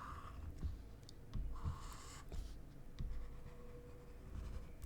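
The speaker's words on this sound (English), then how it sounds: "So let's just do a quick sketch of this." Pen scratching on paper while a diagram is sketched by hand for a calculus problem, with a steady run of close strokes and short scrapes and quiet taps, no voice.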